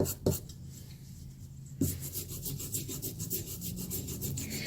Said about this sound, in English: take your brass brush that we've been using earlier in the project and just give it a scrub